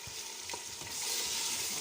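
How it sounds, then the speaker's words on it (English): Tinned tomatoes sizzle and crackle steadily in a hot pan, a soft continuous frying hiss with a faint stir. "So this is my tin tomatoes I'm frying now."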